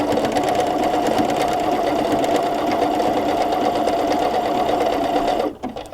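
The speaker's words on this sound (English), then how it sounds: "So I'm going to go ahead and get started sewing." A PFAFF ambition 610 sewing machine stitching a seam and overcast runs at a steady, fast, even whir for several seconds, then stops abruptly near the end, close and loud.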